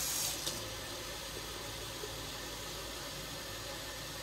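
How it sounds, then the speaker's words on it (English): Tap water runs steadily into a foam cannon bottle, a continuous broadband hiss of filling with a brief splashy onset, heard alone with no talking. "pretty much you want to put about a quarter of the soap in here and fill the rest with water"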